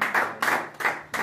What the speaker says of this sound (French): Célèbre Jésus en l'acclamant fortement.